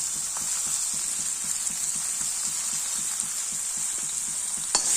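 Chilli powder, turmeric, curry leaves and kanthari chillies fry in hot oil for an egg curry, giving a steady close sizzle with faint stirring clicks and no voices.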